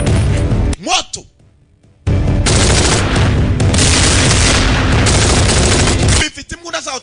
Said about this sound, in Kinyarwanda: Bifite imbunda za automatic ziraza abapolisi